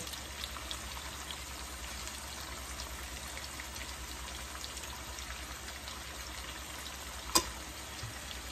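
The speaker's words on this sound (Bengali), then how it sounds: "মশলাটা কষুক, তারপরে আমি এটার মধ্যে মাছটা ছাইড়া দিব" Spice paste with cumin and coriander powder sizzles steadily in a pan before hilsa fish pieces go in, a soft continuous frying hiss with a single sharp tick near the end.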